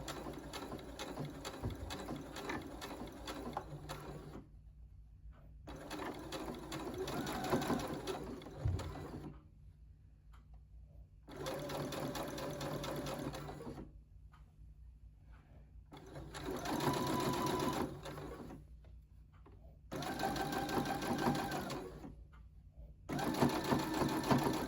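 A regular domestic sewing machine stitches a T-shirt neckline in bursts of rapid mechanical whirring, five or six runs of a few seconds each separated by short pauses, close and alone.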